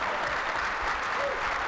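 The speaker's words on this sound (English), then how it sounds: "yeah, we can clap for that." Audience applause fills a legislative breakfast hall, a steady dense clapping that holds at an even level throughout with no voices standing out.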